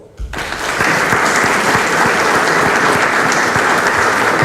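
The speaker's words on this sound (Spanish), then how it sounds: "reiteramos nuestro nuevamente aplauso, por favor, por la ponencia magistral de nuestro congresista John Aguinaga" A hall audience applauds after a congressman's keynote lecture at a national day event for people with disabilities; loud, sustained clapping from many hands starts abruptly and holds steady throughout.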